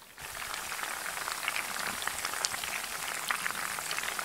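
Hot garlic-and-spice chili oil sizzles and crackles steadily in a pot, a dense bubbling hiss with small pops, close by and with no talk.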